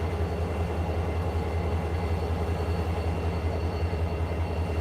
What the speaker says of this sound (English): John, did you tell me those are old Conrail locomotives last week